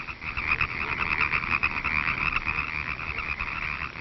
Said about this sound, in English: when spring comes, he returns to the pond for the mating season. And then the whole pond seems to burst into song.